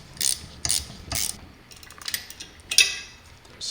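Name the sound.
tightening a bolt with an Allen key and wrench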